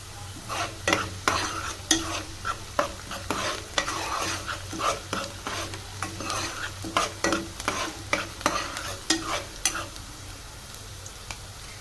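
Onions and green chillies fry in a pan while a spoon stirs them with quick, repeated scraping strokes in an irregular rhythm, sizzling underneath and close by.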